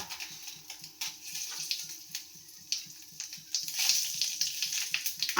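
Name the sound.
black cumin sizzling in hot oil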